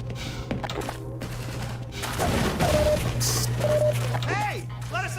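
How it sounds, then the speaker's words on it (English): Automated turrets firing in the video game Half-Life 2: a steady, rapid clatter of gunfire runs under continuous talking, with a few electronic chirps and beeps near the end. "Okay, those turrets are really cool."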